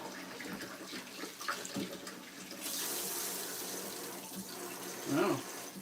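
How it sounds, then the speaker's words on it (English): Tap water runs steadily into a sink while a container is rinsed out in a kitchen during banana bread baking, a continuous hiss that swells midway with brief handling knocks and a little background voice. "Suppose I could just rinse this out instead of filling it with water."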